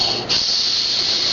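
A child imitates a snake with a long, steady, loud hiss held close to the microphone after a brief breath at the start.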